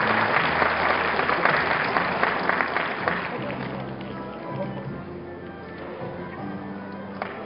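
An audience applauds at a university degree conferral ceremony at Seoul Digital University. Thick, sustained clapping is loudest at first, then gradually thins and softens, with faint murmuring in the hall.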